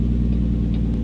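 Jake brake on a Kenworth W900 truck in American Truck Simulator, a loud, deep, steady engine rumble with a fast pulsing throb, heard briefly and close.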